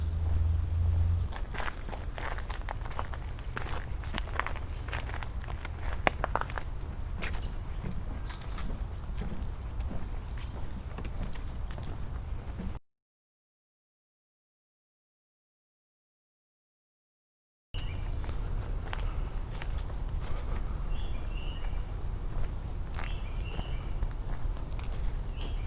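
Footsteps crunch along a dirt trail in a nature preserve, steady and close, with wind and faint outdoor ambience around them. The sound breaks off in a silent gap partway through, then the walking resumes.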